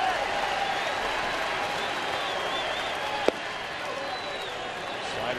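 A big stadium crowd of Royals and Cubs fans at a night baseball game in Kansas City keeps up a steady, distant roar of cheering and clapping, with a sharp crack partway through and broadcast commentary talking over it.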